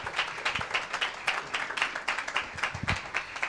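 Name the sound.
congregation applauding for the glory of God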